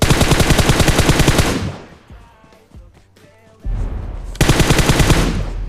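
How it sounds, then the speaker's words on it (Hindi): Gunfire from the mobile battle-royale game BGMI opens with a loud, rapid automatic burst. After a quieter gap with scattered sounds, a second sustained stretch of rapid shots follows. "अब यहाँ पर मैंने फायर करके गलती कर दी।"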